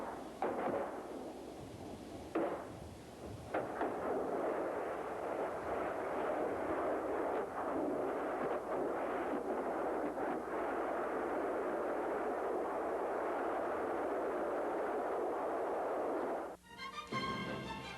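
A missile strike on a fully armed tank sets off a dull, rumbling explosion with sharp blasts at the start, then a long, roaring burn that cuts off near the end, loud and sustained with no talk.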